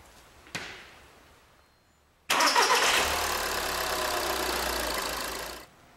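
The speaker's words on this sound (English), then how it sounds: "Next thing we're going to do is actually start the engine." A brief click, a pause, then an Audi A3 2.0 TDI diesel engine cranks and catches, settling into a steady rumbling idle before cutting off.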